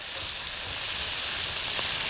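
Cabbage frying in a pan over medium heat, a steady close hiss of sizzling that continues without a break, with no one talking.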